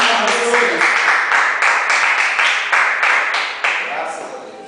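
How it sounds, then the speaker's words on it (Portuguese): A church congregation claps after a prayer, a loud, rhythmic burst of hands beating in unison with a strong regular pulse, close and lively, easing off toward the end with a voice audible over it. "Aplauda o Senhor."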